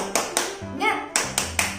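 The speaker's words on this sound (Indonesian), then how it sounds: "Ayo kita tepuk semangat." A teacher leads a rhythmic classroom spirit clap, sharp hand claps in a quick patterned beat with a short voiced call in the middle, close and moderately loud.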